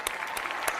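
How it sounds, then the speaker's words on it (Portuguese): Applause in a studio setting, a short steady burst of many hands clapping, fairly close and alone. "Palmas novamente."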